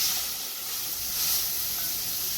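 Onions hiss and sizzle in a hot pan with a steady, unbroken frying sound at close range, with no talking.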